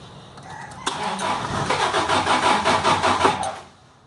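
A car engine cranks repeatedly without catching, the starter churning in a steady rhythmic burst for a few seconds before cutting off, close and loud with no talk, while checking whether the fuel pump activates.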